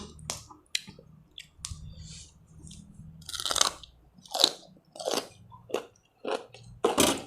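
Close, crunchy chewing of a spicy salmon papaya salad (som tam) with fermented fish sauce, with repeated wet bites and crunches in an irregular rhythm and no talking.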